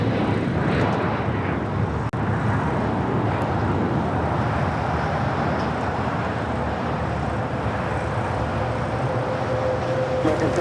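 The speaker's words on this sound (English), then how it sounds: "Looks like ANA making a right-hand turn onto Lima." An ANA airliner taxiing and turning onto a taxiway at LAX, a steady loud engine roar mixed with broad airport rumble.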